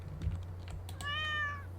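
A cat meows once in a drawn-out, clear cry near the end, heard close in a room over a low steady hum, with faint keyboard tapping just before.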